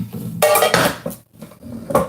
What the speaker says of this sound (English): And I got dishes to wash.